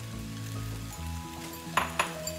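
Soy sauce hits a hot pan of Thai shrimp fried rice with a steady sizzle, joined by a couple of metallic clinks from a utensil, while music plays underneath.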